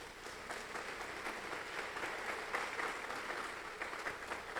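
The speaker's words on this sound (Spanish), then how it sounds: "Quiero que recibas el aplauso de mis hermanos de acá de Ecuador." A church school gathering in Ecuador gives a sustained round of applause, an even, fairly faint wash of many hands clapping together without a break.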